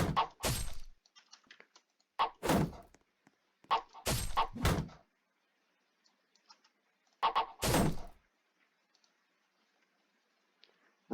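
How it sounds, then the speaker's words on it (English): Sword strikes landing on a shield in a Roblox combat roleplay, several sharp clanking impacts spaced a second or two apart, some in quick pairs, with silence between. "if I hit the opponent's shield, and after hearing the block animation"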